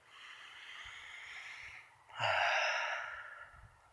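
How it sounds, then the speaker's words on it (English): Slow, deep breathing taken while looking out over a view: a long steady inhale-like hiss, then a louder, fuller exhale that swells and fades, with no talking. "Let's just observe the view and breathe together."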